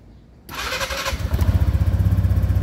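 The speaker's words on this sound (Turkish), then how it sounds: "Motorumuz çalıştı arkadaşlar." A Mondial Strada 125 motorcycle engine cranks and fires after a quiet start, then settles into a steady, close, rhythmic idle with a pulsing low thump.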